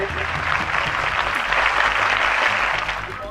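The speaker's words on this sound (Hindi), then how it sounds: "तो मैं चाहूंगा कि राहुल गांधी जी के लिए एक बार जोरदार ताली आपकी बजे।" A crowd gives loud, sustained applause for Rahul Gandhi at a public speech, a dense continuous wash of clapping that swells and fades slightly near the end.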